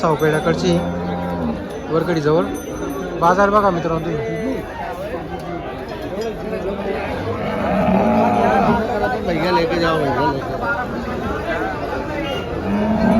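Cows lowing repeatedly at a busy cattle market in Dhule, their moos mixed with constant crowd chatter and someone talking close by.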